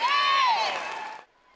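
Stadium crowd applauding as national archery team members walk into a rain-soaked World Cup football stadium, a broad steady wash of clapping and cheers that drops away abruptly near the end.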